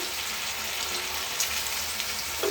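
Mustard paste going into a curry frying in a pan, a steady close sizzle that holds evenly throughout with faint scraping touches and no voices.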